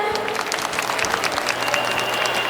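An audience at an MC event applauds in a dense, fairly loud burst of clapping that holds steady throughout.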